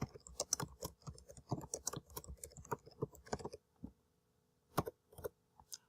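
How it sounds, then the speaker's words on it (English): Rapid keyboard clatter as a school's name is typed on a computer keyboard, a dense burst of close keystrokes followed by a pause and a few scattered taps, with no talking. "type in the name of the school"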